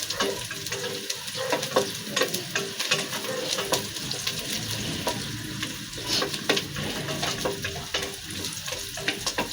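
Ginger and garlic frying in hot oil for a fish stew, a steady close sizzle with intermittent clicks and stirring scrapes throughout.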